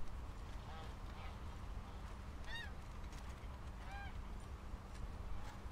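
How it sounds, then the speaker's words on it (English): Canada geese honk in the video game Red Dead Redemption 2, several separate nasal calls spread across a few seconds over a steady low ambient hum. "Canada goose."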